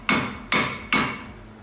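Three hard hammer blows ring out about half a second apart on a rusted car wheel bearing being driven out, each strike sharp and metallic with a decaying ring, close and loud with no talking.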